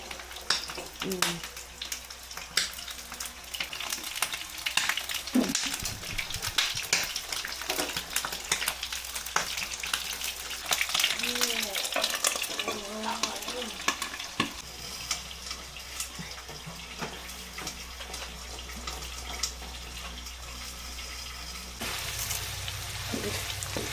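Eggplant frying in a pan with steady sizzling and crackling, broken by clinks and scrapes of stirring, while people talk nearby at a low level.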